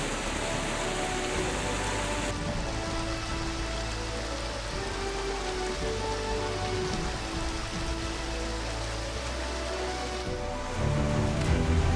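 Waterfalls cascade down the sides of a New Zealand mountain valley, making a constant, broad rushing hiss that stays loud and unbroken, with no voices heard.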